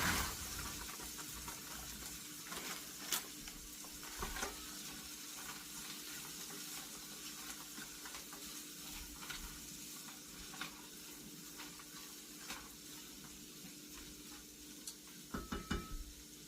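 Potatoes frying in a pan for corned beef hash, a steady soft sizzle throughout with occasional sharp clicks and taps of stirring, faint and close.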